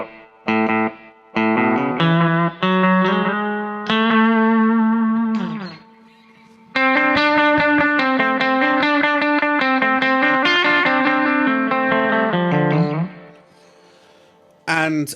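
An electric guitar plays single notes and phrases through a cheap delay pedal set to full echo volume with no feedback, each note followed by one repeat, loud and clear.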